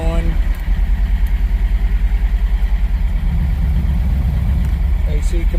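A 1982 Porsche 924 Turbo runs steadily at idle, its engine drone loud and close with cooling fans blowing over a continuous low rumble, alone without talk.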